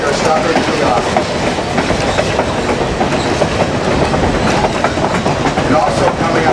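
The Essex Steam Train rolls along the rails with a steady, loud clickety-clack of wheels and a continuous rumble of the cars, heard up close from on board without pause.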